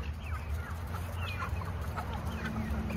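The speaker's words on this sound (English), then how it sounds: "Chickens!" Farm chickens cluck and chatter continuously nearby over a steady low outdoor rumble, several birds overlapping in soft, repeated calls.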